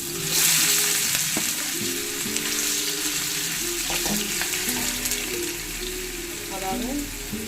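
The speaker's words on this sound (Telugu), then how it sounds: "రొయ్యలు ఫ్రై చేస్తున్నాను" Prawns fry in hot oil in a kadai with a continuous bright sizzle and crackle, close up, punctuated by occasional stirring clatters and faint background voices.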